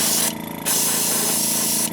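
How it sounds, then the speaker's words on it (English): An airbrush sprays Createx Transparent Bright Red paint onto the bill of a jerkbait lure in a steady close hiss, breaking off briefly once before resuming. "We're going to spray mainly on the bill so we don't go too far back."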